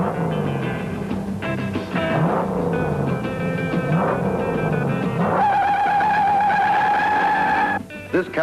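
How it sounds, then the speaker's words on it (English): A car runs at speed through wide sweeping turns in a four-wheel drift at the Dearborn test track. The engine rises and falls, with whining tones that climb and hold, then cut off abruptly near the end. "We drove the wide sweeping radius turns here at Dearborn with a throttle in a four-wheel drift"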